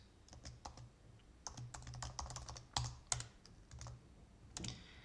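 Terminal commands are typed on a computer keyboard in quick, irregular bursts of crisp key clicks, with short pauses between runs and a few heavier keystrokes, close to the microphone in an otherwise quiet room.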